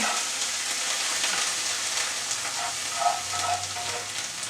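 A bean and corn mixture seasoned with cumin and oregano sizzles steadily in a pan, close and moderately loud, with faint stirring scrapes.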